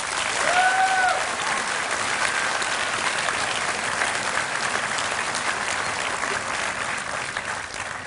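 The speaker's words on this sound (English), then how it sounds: "Ladies and gentlemen, let's give them a warm round of applause." Sustained applause from a large audience at a 2017 high school graduation ceremony, a steady dense clatter of many hands holding at an even level for the full eight seconds with faint crowd murmur.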